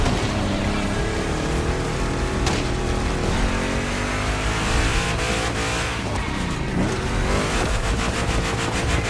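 A powerful big-block engine roars and revs continuously in The Crew Motorfest racing game, loud and close with no break. Gear changes and throttle surges shift its pitch, and a tire squeal may sound within it.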